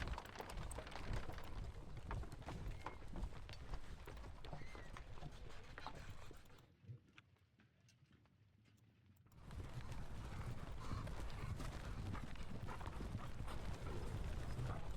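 Horse artillery hooves moving in a Napoleonic war strategy game: a steady, dense clip-clop of many hooves, continuous and moderately loud, cutting out briefly in the middle before resuming.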